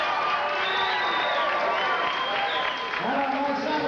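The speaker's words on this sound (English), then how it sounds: "And a nice round applause for James Baez." A boxing arena crowd applauds and cheers after a pro bout ends in a TKO, a dense roar of clapping and shouts with a ring announcer's voice over it.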